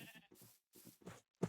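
Sheep in a survival video game bleat in a few short, quiet calls spaced through a moment of otherwise empty background.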